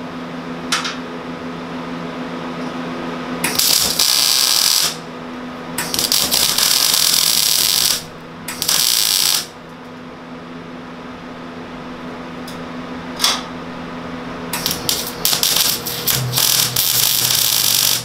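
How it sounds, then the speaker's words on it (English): Welding on a street go-kart's steel frame: loud, harsh crackling buzz in several long bursts of a few seconds each, separated by short pauses, close up with a steady background hum. "So I'm gonna start welding this bad boy on."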